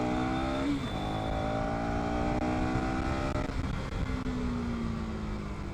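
A KTM Duke 250 motorcycle engine revs up hard, pitch climbing steadily through the gears over a continuous roar, with a brief dip before rising again.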